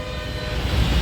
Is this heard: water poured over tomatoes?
no